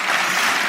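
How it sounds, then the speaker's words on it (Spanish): Brief burst of steady audience applause, dense hand clapping filling the moment without a break. "se merece un aplauso"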